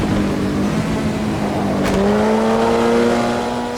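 A Formula Junior race car with a 4-speed transmission in the Automobilista 2 racing game, its engine droning steadily at high revs, briefly dropping then climbing in pitch after a quick gear change, loud and close throughout.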